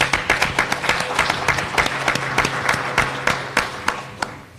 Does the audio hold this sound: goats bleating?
no